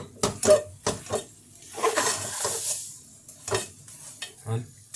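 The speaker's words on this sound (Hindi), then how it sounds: "वो मैं मिक्स करती हूँ इसमें। इसको अच्छे से मिक्स करना है।" Vermicelli and khoya mixture with rabri stirred in a pan for a Sindhi sweet: close, irregular scraping strokes with metallic clinks of a spoon against the pan.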